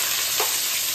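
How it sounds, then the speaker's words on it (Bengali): Chopped onion frying in hot oil in a wok, a dense close sizzle with a brief stirring scrape partway through. "পেঁয়াজটা ভেজে নেব।"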